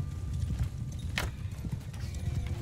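Horses gallop across a medieval strategy video game battle, a steady stream of clopping hooves throughout with one sharp, bright burst partway through.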